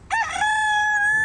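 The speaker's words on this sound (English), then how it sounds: "what a rooster" A rooster crows once, loud and close, a harsh opening note that stretches into a long sustained cry lasting over a second, with no talking.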